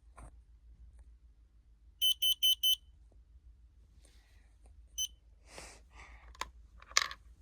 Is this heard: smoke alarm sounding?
yes